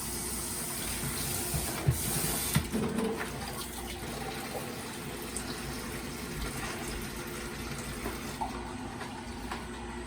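Filtered water runs steadily from a tap or pours into a container, a soft continuous rush with a couple of faint clinks, no speech.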